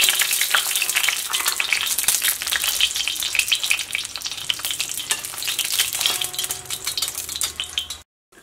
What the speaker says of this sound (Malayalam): നമ്മുടെ മുളക് വെളിച്ചെണ്ണയിൽ ഇടുന്നത് നന്നായിട്ട് മുരിഞ്ഞിട്ടുണ്ട്.